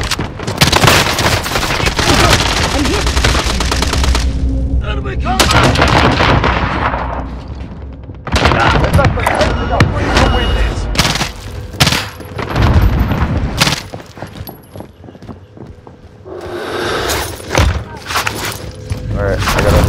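Assault rifle fire in Call of Duty: Warzone comes as loud bursts and single shots mixed with booms and explosions, broken by brief quieter gaps, with player voices talking over parts of it.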